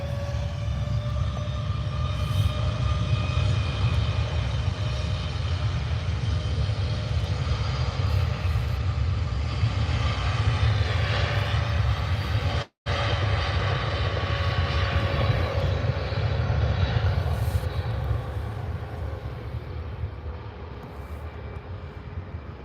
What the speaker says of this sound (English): 787-8 on the roll.